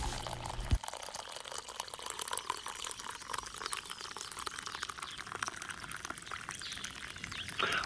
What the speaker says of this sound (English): So pour yourself a hot cup and enjoy the show